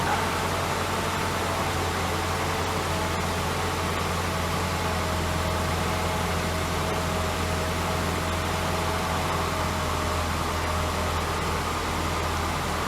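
A car engine idles steadily just after starting, on a vehicle with electronic throttle control and no idle air control valve, giving a constant low hum with broad mechanical noise throughout and no speech.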